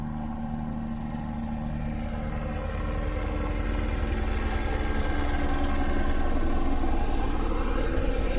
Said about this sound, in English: My garden is being buzzed by a helicopter.